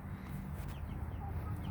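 Chickens cluck and murmur softly nearby, a low continuous bustle of fowl with faint background noise.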